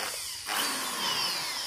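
Bosch GSB 550 electric impact drill switched to hammer mode and run without a workpiece, a steady harsh whirring and rattling hiss that jumps up in loudness after a brief softer start.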